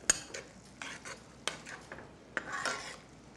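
Canned chili being stirred in a pot with a utensil, producing a series of sharp scrapes and clinks against the metal, separated by short softer swishes.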